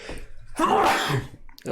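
A single sharp sneeze bursts out at close range, loud and brief, with quieter sounds before and after it.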